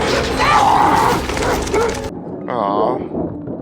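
Dogs barking and yipping in The Last of Us season 2 episode 2, short excited barks and a whimper heard over voices and score, ending in a closer, clearer bark.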